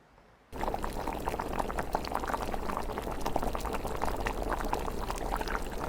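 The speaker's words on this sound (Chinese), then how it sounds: "先把牛肉给它焯下水， 加葱姜还有料酒" Beef is blanched in a pot of boiling water with scallion, ginger and cooking wine, a loud, steady close bubbling and rolling boil that starts abruptly and continues without talk.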